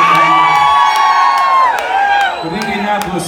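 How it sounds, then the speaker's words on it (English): A rock concert crowd in Indianapolis cheers and whoops loudly and continuously, with high shouts and whistles rising over a dense wall of voices. "we got a rock and roll crowd here tonight"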